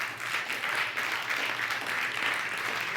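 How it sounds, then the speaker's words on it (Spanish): A church congregation applauding during a worship service, a dense, even wash of many hands clapping that holds steady throughout at moderate loudness. "Dale un aplauso al Señor"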